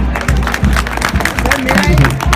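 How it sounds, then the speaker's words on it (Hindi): An audience at a talk with CRPF Cobra commandos claps, with rhythmic, fairly loud rounds of applause and crowd noise running throughout. "इन कमांडोज के लिए मैं चाहूंगा एक ताली एक बार बजा दें।"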